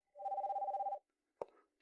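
A telephone rings once with a steady warbling electronic trill lasting about a second, followed by a short click, fairly quiet and with no talk.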